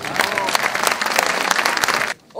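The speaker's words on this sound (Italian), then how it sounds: "meritereste un grosso applauso, anzi ve lo faccio tutti quanti" A crowd at a live 1960s music show bursts into loud, dense applause with some cheering, cutting off abruptly near the end; voices are faintly mixed in.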